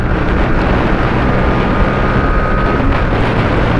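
A Bajaj Pulsar NS125 BS7 motorcycle, a 2024 model, revving at high RPM while riding, giving a loud continuous engine drone with heavy wind rush close to the microphone and no talking.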